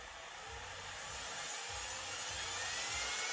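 A DeSoto transmission governor spins steadily with a broad whirring hiss, while faint low thumps recur about once a second as its centrifugal weights switch the points on and off.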